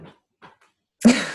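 A single short, sharp cough bursts out after a few soft murmurs, close and fairly loud before quickly fading.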